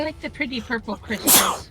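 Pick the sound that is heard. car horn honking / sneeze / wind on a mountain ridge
sneeze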